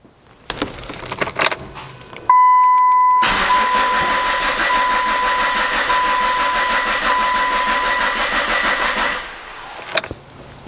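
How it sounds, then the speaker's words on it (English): A Chrysler PT Cruiser engine spins over steadily for several seconds, loud and close, with a high whine running through the cranking, after some clicks and a brief pause, then stops with a few handling noises. "we're ready to spin the engine over and monitor the fuel pressure"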